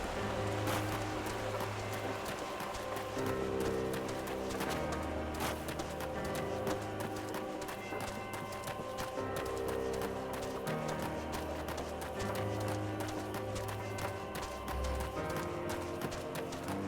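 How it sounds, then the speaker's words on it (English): Horse hooves clip-clop steadily in Final Fantasy XIV over a dense bed of game music, the rhythmic footfalls sitting low and continuous throughout. "We can get on our horse."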